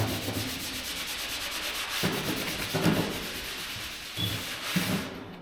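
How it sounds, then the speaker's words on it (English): A part for a 1938 Chevy rear window is scrubbed by hand close up, with steady rubbing strokes and a few heavier scrapes, alone without talk. "Scrub this off as clean as I can get it."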